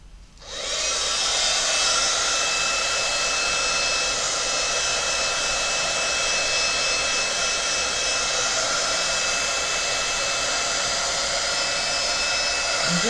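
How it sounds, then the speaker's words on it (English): A dryer gives a loud, steady blowing roar to dry metallic ink on a handmade foiled poinsettia card. It starts abruptly and holds unbroken and close for over ten seconds, with no voices. "I'm just giving him a quick blast to dry off that metallic ink"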